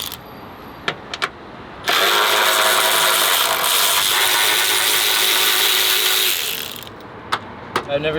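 A ratchet wrench fitted with a 10 mm socket works the bumper bolts on a Honda Integra. A few sharp clicks come first, then a loud, sustained mechanical whirring burst of about five seconds up close, followed by more scattered clicks.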